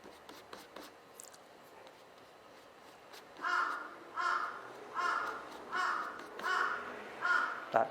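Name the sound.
crow cawing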